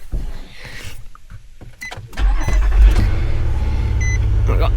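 A 2005 Chevy Silverado 1500 Z71 4x4 pickup cranked and started in a gravel driveway, a brief whirring crank followed by the engine catching into a loud, steady low idle.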